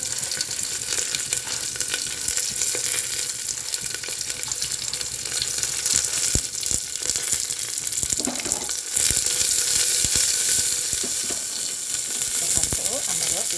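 Onion frying in a pan, a continuous loud sizzle with occasional stirring clinks and some watery splashes over about thirteen seconds.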